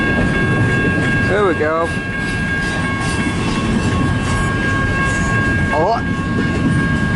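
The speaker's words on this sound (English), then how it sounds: "that's a long train." A long CN 533 northbound local freight train rolls past in Richmond, Michigan, a steady close rumble of rail cars with clattering wheels running throughout, while a voice speaks briefly over it.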